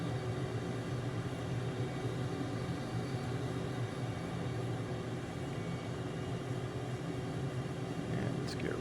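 Steady, even jet engine drone from an F/A-18 in Microsoft Flight Simulator 2020 as the throttle eases back, a continuous broad roar holding level throughout with no talk over it.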